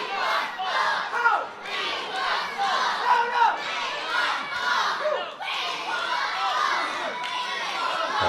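A red-hot crowd in Ditton roars and chants for their hero Sid Manelli during a wrestling bout, a dense continuous wall of shouting voices that rises and falls in waves, loud and close throughout.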